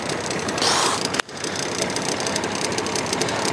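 A Tohatsu 9.9 tiller outboard motor on a RiverBoats 430 RIB idles steadily after a cold start, its close, even running broken by one brief dropout partway through.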